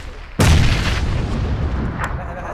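A bomb explosion in a game: a sudden loud blast that cuts in sharply, then a rumbling decay lasting about two seconds, with a second fainter crack near the end.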